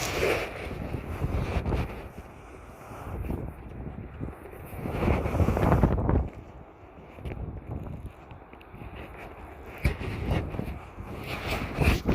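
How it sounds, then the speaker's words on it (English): Cold gusts of wind buffet the microphone at Sydney Airport in uneven surges, loud and close, rising and falling over a low background roar of aircraft. "It's very cold and windy, as you all see right now."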